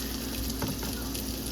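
Peppers and onions sizzle in a wok for an egg roll in a bowl, a brief, close, dense hiss of frying that stays steady throughout.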